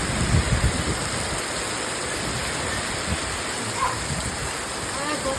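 Heavy rain pours down in Botad village, a loud, continuous roaring hiss with a few faint bumps and a brief voice in the background.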